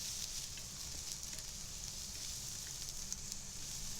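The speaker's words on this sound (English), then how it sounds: "Then add shredded onion, carrot, pepper. Stir fry for a while." Shredded onion, carrot and pepper stir-frying in a hot pan for shrimp fried noodles, a steady dense sizzle with a faint low crackle underneath, even and unbroken throughout.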